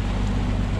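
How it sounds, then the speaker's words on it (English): A bass fishing boat idles over a point on a lake, its engine giving a steady low droning rumble with watery wash, close and continuous for under a second. "I've got a lot of idling to do today. I'm actually idling over a little point right now."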